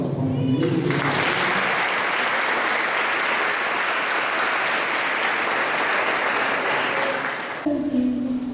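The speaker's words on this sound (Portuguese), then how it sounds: "vamos dar uma salva de palmas para ele" A church congregation at a youth Mass claps in a sustained, dense round of applause, steady and full from start to finish, with brief voices near the beginning and end.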